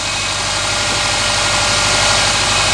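An old car engine idles steadily up close, with a continuous loud rumble and a faint knocking pulse running through the whole stretch, and no voices.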